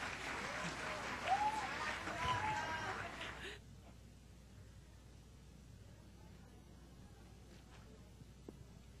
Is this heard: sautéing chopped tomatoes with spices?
no